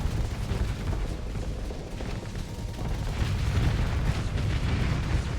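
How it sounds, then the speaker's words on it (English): Torpedo explosions against ships in the space combat game Starsector, heard as a continuous rumbling blast texture that swells in the second half, loud and dense with no voices. "going on another torpedo run."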